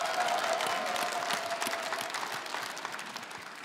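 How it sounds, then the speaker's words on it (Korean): Audience applause at a 2015 MBC trot music awards show, a dense, steady wash of clapping from a large crowd that fades slightly toward the end. "우리 트로트를 위한 우리 트로트 가수님들께 박수"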